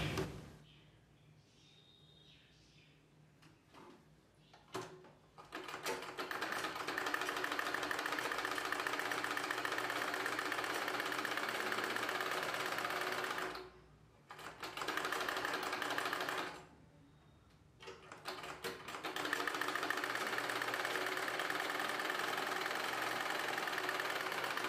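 A sewing machine stitches the neck edge of a blouse back piece with its lining, running in long steady bursts with short pauses between them, close and fairly loud with no talking.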